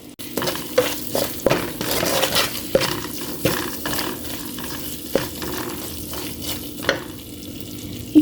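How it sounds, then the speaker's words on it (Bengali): Spices for beef haleem fry with a little water in a pot, a steady sizzle broken by regular scraping strokes of a spoon against the metal, close and fairly loud with no talk. "3 মিনিট আমি মশলাটা কষিয়ে নেব।"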